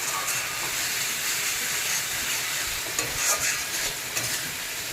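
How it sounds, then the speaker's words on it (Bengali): Ginger, garlic, cumin, chili and other spices stirred and frying in a pan for a home-cooked Bengali egg curry: a steady, close sizzle with continuous scraping and stirring throughout, no voices. "দিয়ে দিলাম মশলা, আদা রসুন জিরা যা যা লাগে আর কি, লঙ্কা সব কিছু মশলা দিয়ে একটু ভালো করে নাড়াচাড়া করে নিই।"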